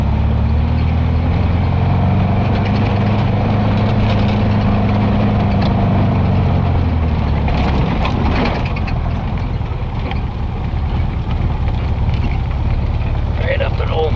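A 1969 Volkswagen Baja with a 3.88 ring and pinion climbing a steep hill, its air-cooled engine droning loud and steady under wind buffeting, with a strained low rumble easing partway through.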